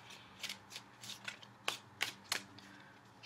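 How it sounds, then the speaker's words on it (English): Tarot cards being shuffled by hand, a series of soft papery riffles and taps in a quiet room, with a few sharper flicks toward the end. "Shuffling for just a few more seconds, and then I'll cut the cards."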